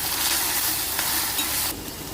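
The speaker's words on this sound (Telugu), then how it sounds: "అడుగంటకుండా అలా మీడియం ఫ్లేమ్లో పెట్టి వేయించుకోవాలి." Ginger garlic paste frying in a pan on a medium flame for bagara rice, a steady close sizzle with light stirring scrapes and a brief brighter hiss near the end, no talk.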